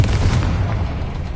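A Confringo fire spell blasts in Hogwarts Legacy, a dense booming burst with low rumble that holds steadily loud through the whole moment, no voices over it.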